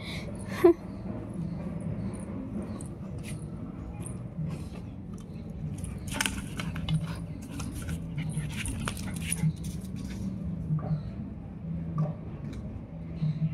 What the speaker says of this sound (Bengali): দেখুন দেখুন কি করছে, পাইপ কামড়াচ্ছে বসে বসে।